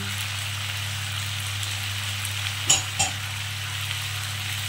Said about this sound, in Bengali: এবারে পেঁয়াজ আর চিংড়ি মাছ আমি একসঙ্গে ভাজা ভাজা করব।